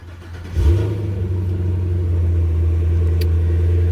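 A Cadillac CT4-V or CT5-V Blackwing sedan engine cranks and catches, then settles into a loud, steady rumbling idle with a slight rising rev, close by and with no talking.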